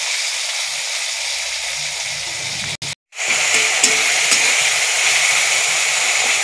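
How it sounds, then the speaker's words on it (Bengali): Tomato frying in a pan with mustard paste, green chilli and salt, a loud steady close sizzle that cuts out for a moment, then resumes with faint stirring clicks. "টমেটোটা ভালোভাবে ভাজা হয়ে গেছে"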